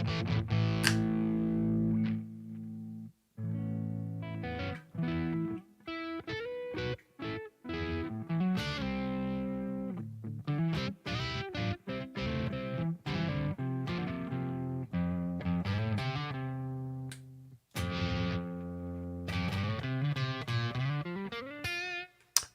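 An electric guitar played through a Spark amp with overdrive distortion rings out in loud, choppy chords and riffs with brief pauses between phrases.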